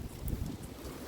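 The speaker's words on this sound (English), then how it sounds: "It's a windy day." Wind gusts across the microphone outdoors on an afternoon walk, a brief, low rumbling buffet with a faint rustle, no voices.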